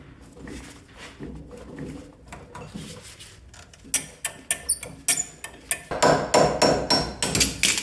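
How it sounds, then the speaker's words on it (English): A hammer drives pins out with a punch on the front-end suspension of a 1994 Chevy K1500 truck. Soft handling noises come first, then a rapid series of sharp, ringing metal strikes, close and loud, about a dozen in under four seconds. "I can just stick a punch in the top and hammer them out."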